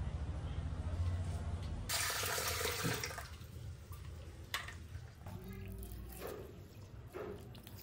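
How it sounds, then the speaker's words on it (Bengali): Water splashing and running over sesame seeds as they are washed for soaking, with a louder gush partway through and smaller splashes and trickles after, with faint background voices. "কটা এখন ধুয়ে ভিজিয়ে রেখে দেবো।"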